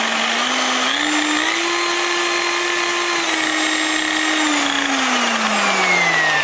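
A Black & Decker high-speed car buffer runs with a steady motor whine, the pitch climbing as it speeds up and later dropping as it slows, loud and close with no talk over it.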